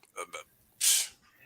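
A single sharp, breathy sneeze bursts out loudly near the mic, preceded by two brief vocal sounds in a quiet setting.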